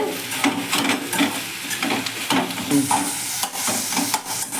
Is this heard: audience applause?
no